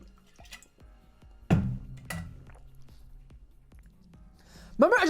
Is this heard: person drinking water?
yes